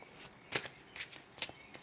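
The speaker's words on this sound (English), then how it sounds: "my shuffling is slow and methodical" Tarot cards shuffled slowly and methodically, four distinct crisp riffling bursts spaced evenly, soft and close in a quiet room.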